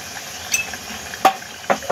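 Spices frying in hot oil for rajma give a soft, close sizzle, punctuated by three quick scraping clinks of a spoon stirring against the pan.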